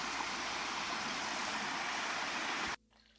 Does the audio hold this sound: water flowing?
yes